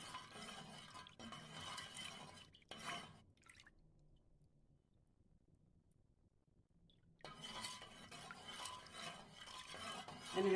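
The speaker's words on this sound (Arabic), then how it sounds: "انا هدوب كده لغايه ما الملح يدوب" Salt being stirred into milk to dissolve it, soft liquid swishes and faint clinks of a utensil against the container, quiet and close, falling nearly silent midway before the stirring resumes.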